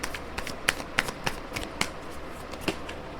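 Tarot cards are shuffled and drawn by hand, giving sharp, irregular snaps and soft riffling slaps close by, repeating unevenly for several seconds with no talking.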